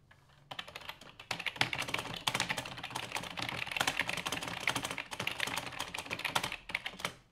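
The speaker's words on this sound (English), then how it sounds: "somebody asked what the keyboard sounds like" Fast, steady typing on a computer keyboard that is not an IBM Model M, with dense clattering keystrokes running close and clear for several seconds and no talking.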